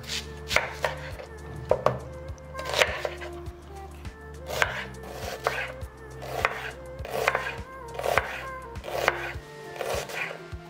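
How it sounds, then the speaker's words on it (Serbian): A knife chops a red onion on a board in quick, regular strokes, close and clear, with a cat meowing intermittently in the background. "sada ću iseckati 1 crveni luk"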